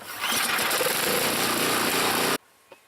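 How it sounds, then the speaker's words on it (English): An Ariens Deluxe 28 snow blower engine catches on a pull start and runs loud and rough for about two seconds, then cuts off abruptly, followed by a single faint knock. "Turn the ignition on, give it a pull."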